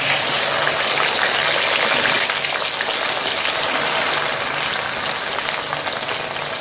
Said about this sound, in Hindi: अब अरबी को हमने उस वक्त तक फ्राई करना है